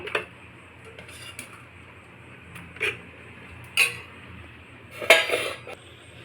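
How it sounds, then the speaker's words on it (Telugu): Curd is put into a small plastic container, making a handful of separate light clicks, taps and scrapes at close range. A brief clatter comes near the end, and nobody speaks. "ఈ డబ్బాలో వేసుకుందాము ఒక రెండు గంటల పెరుగు"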